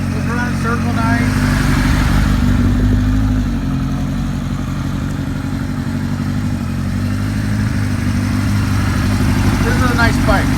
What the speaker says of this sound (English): Idle's really nice, no misses.